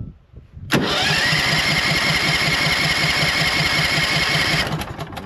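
The gasoline engine of a Logosol band sawmill has trouble starting: it catches abruptly with a loud, steady rattling run for about four seconds, then dies away, with no talk.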